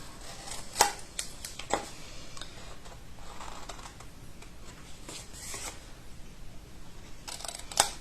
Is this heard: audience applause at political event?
no